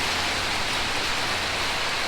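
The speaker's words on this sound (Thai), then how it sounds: "หันไปดูบรรยากาศอีกทีครับ ฝนตกหนักขนาดไหน" Heavy rain pours down steadily in a dense, even hiss, close and loud with no break, on a rainy day in Thailand where a Yamaha XMAX 300 scooter is parked.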